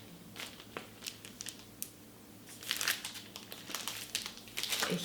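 Paper crinkles and rustles close up while Sennheiser HD 820 headphones are unboxed, with intermittent crisp crumpling bursts that grow busier toward the end.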